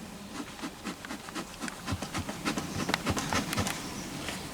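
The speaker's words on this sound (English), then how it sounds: "I'm just going to brush the bees off this" Honey bees swarm around an opened hive frame during a hive inspection, giving a soft, steady buzz, with nearby tapping and rubbing as the frame is handled and brushed.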